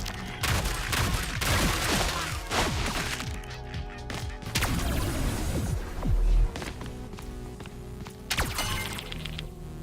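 Shotgun blasts fired at enemies in the game ODDCORE, a rapid series of loud, punchy shots with impact crunches layered over busy game sound, no talking.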